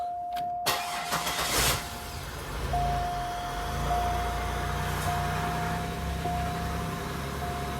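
A 1973 Cadillac Eldorado engine cranking with a short whir, then catching and settling into a steady, rumbling idle, heard close and continuous with a faint high tone running through it.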